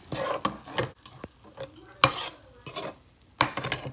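Beans being stirred into rice and oil in a hot pan, with repeated scraping and clinking strokes of a utensil against the pan over a soft sizzle, close and moderately loud.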